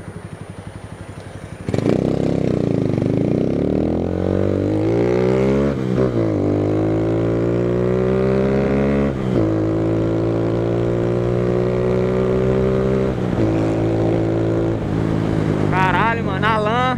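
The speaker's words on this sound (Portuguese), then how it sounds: "Alan, do meu cano já era, velho. Não era tão barulhento assim não, hein?" A motorcycle engine with a broken exhaust pipe revs loud and close, its pitch climbing and dropping through several throttle bursts. The tone is harsh and blaring, and voices talk briefly around it.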